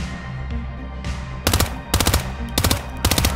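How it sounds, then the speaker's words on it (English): Four rapid bursts of gunfire from Hitman 2, each a cluster of sharp cracks, loud and close over a low steady game-music background. "I missed with all those shots."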